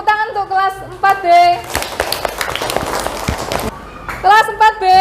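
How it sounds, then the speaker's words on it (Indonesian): A class of 4B elementary schoolchildren bursts into about two seconds of dense, lively clapping. Spoken voices come right before and after the applause. "tepuk tangan untuk kelas 4B"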